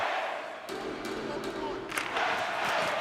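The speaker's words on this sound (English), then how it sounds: "you can feel the energy in this crowd" Video game hockey arena crowd in NHL 25 during a tied Hurricanes versus Red Wings game, a dense continuous roar of cheering with swells and scattered thumps, heard under a play-by-play commentator's voice.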